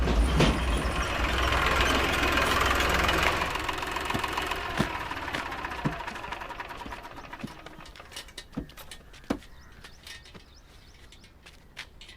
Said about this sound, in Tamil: இதோ வண்டி வந்துருச்சுங்கய்யா